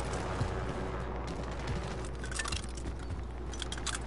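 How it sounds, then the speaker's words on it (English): Assault rifle gunfire in a PS4 shooter game, a dense crackle of rapid shots and bursts, fairly distant and continuous across the moment. "Assault rifle."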